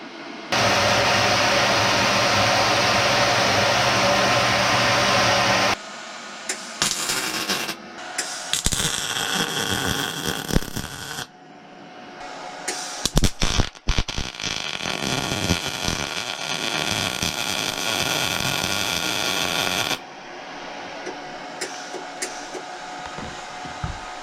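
A metal piece is cut off near the brake area of a Chinese four-wheeler: a loud, steady grinding whine runs for several seconds, then comes in repeated bursts and short pauses, ending in a quieter stretch.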